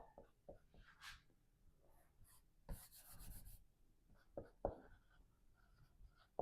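Chalk or marker writing on a board during a Class 12 chemistry lesson on industrial NaOH preparation, heard as irregular scratchy strokes and taps with short pauses between them, close and fairly quiet, with no talking.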